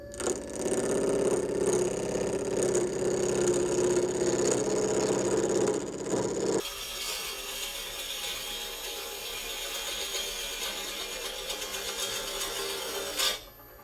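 Spindle gouge cutting a wooden workpiece on a lathe: a loud, steady rasping cut with a motor hum runs for about six seconds, then drops to a thinner, quieter whir of the spinning lathe, with a brief scrape near the end.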